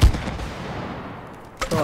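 Gunfire in the co-op video game It Takes Two, with a loud blast at the start, a decaying rumble, and another sharp shot near the end.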